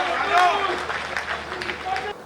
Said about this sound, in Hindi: दोनों हाथ उठाए, जोरदार तालियां बजाए, प्रताप फौजदार को बुलाए